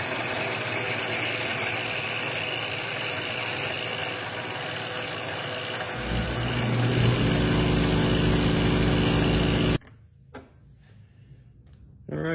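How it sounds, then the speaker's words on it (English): A Bridgeport milling machine cuts a slot into a custom spanner wrench, a steady loud machining drone and whir that grows heavier partway through, then cuts off, leaving a few faint knocks. "All right, so we got our slot milled in. You just seen that done on the Bridgeport."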